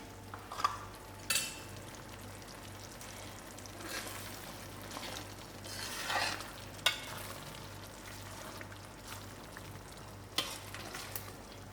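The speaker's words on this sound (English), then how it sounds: "Now I'm going to add in my coconut milk and let it to simmer to another 5 minutes" Prawn and chicken curry simmering in coconut milk, a quiet steady bubbling sizzle with occasional soft clinks and stirring scrapes against the pot.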